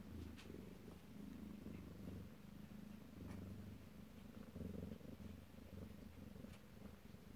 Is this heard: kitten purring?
yes